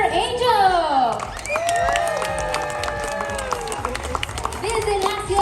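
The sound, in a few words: audience clapping for a child at a resort show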